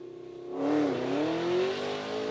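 A 2023 Tesla dual motor and a Mustang launch side by side at a drag strip, a loud rising engine roar swelling then sustaining with shifting pitch, close and alone without talk.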